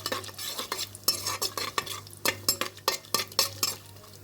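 Cashew nuts fry in a pan while a spoon stirs them briskly, giving a rapid series of sharp scraping clacks over a soft sizzle, close and without any voice.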